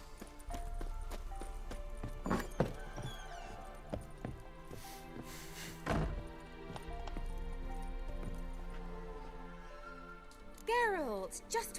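Hooves of Geralt's horse Roach clip-clop in The Witcher 3 video game, a steady walking rhythm under music and other game sounds, with a brief whinny near the end.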